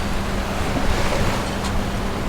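Ocean surf along the Key West shore, a steady loud wash of waves mixed with wind buffeting, continuous with no voices.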